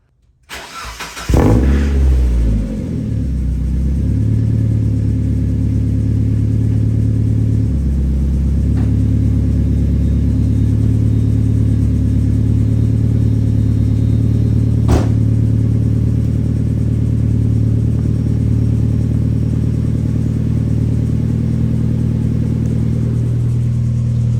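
A Mazda Miata engine with a custom axle-dump exhaust cranks and catches, then settles into a steady, loud, low rumbling idle that runs on evenly.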